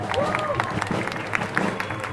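A crowd at a political speech in Belém do Pará applauds and cheers, a dense wash of clapping with scattered shouts, moderately loud, with voices mixed in over it.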